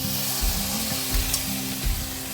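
Mutton pieces frying in a pan of coconut oil with curry leaves for a Kerala-style mutton varattiyathu, giving a steady close sizzle with a few soft stirring thumps, no voices.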